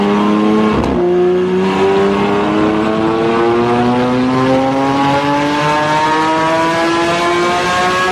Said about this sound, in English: Lamborghini Aventador.